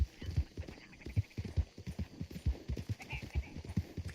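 Horse hooves clip-clopping in the Red Dead Online video game, a steady rhythmic trot of dull, close thuds that continues throughout, with talking faintly underneath.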